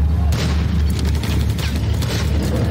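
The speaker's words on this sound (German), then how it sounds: "Schießt aber scheinbar nur das MG" Machine gun fire from a Panzer II tank in a war film about the 1940 attack on Denmark, dense rapid bursts over a heavy low rumble, loud and continuous throughout.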